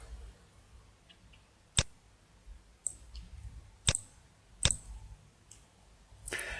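A computer mouse clicks sharply several times in a quiet room, four or five distinct, close clicks spaced about a second apart.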